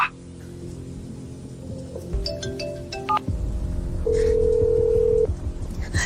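Phone line tones come through a handset, with a few short beeps and clicks followed by a single steady, fairly loud tone lasting about a second, suggesting a busy line.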